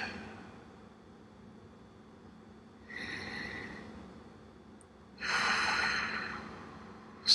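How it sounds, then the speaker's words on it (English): Two slow, deep breaths during a guided healing meditation, each a soft airy rush of air through the nose or mouth, heard up close in a quiet room with long pauses between. "start taking in some deep breaths"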